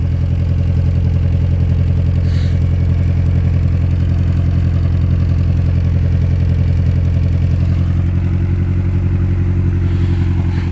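A Boosted Em1 car engine idles steadily up close while warming up, a loud, even low rumble with a faint rattle, holding constant throughout with no revving.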